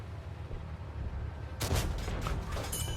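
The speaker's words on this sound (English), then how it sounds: "Just putting the shots into this T29, always a dangerous tank" A tank cannon blast in the World of Tanks video game, fired at a T29 heavy tank, breaks in sharply partway through and rings out loud over a steady low rumble of engine and battlefield noise.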